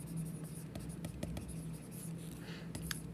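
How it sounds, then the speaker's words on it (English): A pen writes out a chemistry reaction with soft, quick scratching strokes, close and faint, under a low steady hum. "let's just write out what I said."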